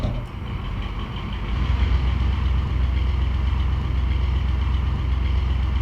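Diesel locomotive from the Trainz 22 video game, a Class 42 Warship using Hymek-style engine sounds, a low steady rumbling throb building slightly as it pulls away.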